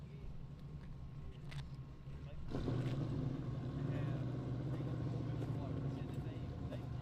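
Race cars with engines fired up at a street racing event, a steady low engine rumble that swells louder after a few seconds and holds, with people talking in the background.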